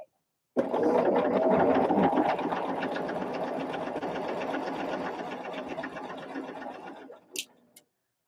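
A sewing machine stitches the final seam of a quilt block in one continuous run of rapid, even mechanical chatter lasting several seconds. It starts abruptly, slows slightly near the end, stops, and is followed by a couple of faint clicks.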